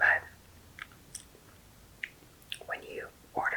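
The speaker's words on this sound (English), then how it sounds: "let's just take a bite of everything" Shrimp tempura sushi is bitten and chewed close to the microphone, giving a few soft, sparse crunches and clicks separated by quiet pauses, with faint whispering around them.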